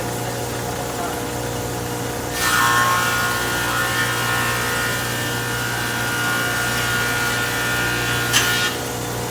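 A wood board feeds through a running thickness planer: a steady machine hum jumps to a bright, harsh cutting roar for about six seconds, then drops back to the idling motor.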